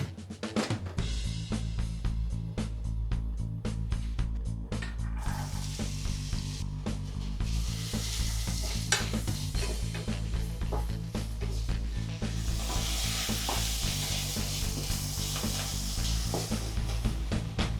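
Chopped onions sizzle steadily in a pan for a lamb sosatie sauce, a loud, continuous crackling fry with occasional stirring scrapes and a low hum underneath, no voices.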